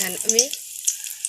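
Chillies and whole spices sizzle in hot oil with a bright, close crackle that carries on steadily, while someone speaks briefly at the start.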